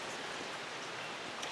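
Rain falls in a steady, even hiss in a garden during a stretch of stormy weather, quiet and continuous with no talk over it.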